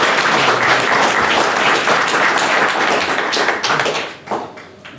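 Audience applause at a tech meetup, a dense burst of clapping from a crowd that holds steady for several seconds, then thins and fades out at the end.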